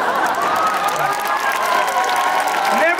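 Audience applause from a crowd at a live event in Minsk, a dense, steady clatter of clapping that fills the whole moment, with voices talking and calling out over it.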